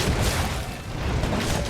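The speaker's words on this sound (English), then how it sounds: "Little flinches from the slinger bombs." Slinger bomb blasts in Monster Hunter World, a dense run of heavy booming explosions that are loud and close and follow one another without any clear gap.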